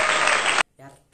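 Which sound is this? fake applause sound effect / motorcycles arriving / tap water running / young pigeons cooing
fake applause sound effect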